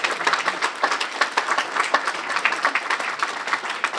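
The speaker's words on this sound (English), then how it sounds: "So let's give him a round of applause and welcome him." Steady applause from an audience at a student research day keynote event, dense clapping that holds at an even level throughout, with no speech over it.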